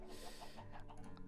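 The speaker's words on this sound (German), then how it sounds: "Dann füttere ich auch direkt die guten Hühner" Chickens cluck in the video game Minecraft as they are being fed, soft short clucks repeating quietly over a low, steady game background.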